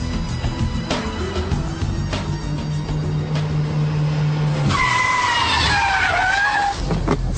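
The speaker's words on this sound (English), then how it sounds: "the handbrake turn followed by reverse flick, and the Scandinavian flick followed by lift-off oversteer." A Ford Puma engine rumbles through handbrake turn and flick manoeuvres, then the tyres break into a loud, drawn-out skidding squeal that wavers in pitch for a couple of seconds.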